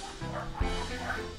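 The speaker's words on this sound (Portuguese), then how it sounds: "Me desculpem os cachorros." Dogs bark and yip in a home setting, a few short sharp barks rising over a constant low hum, fairly close and alone without talk.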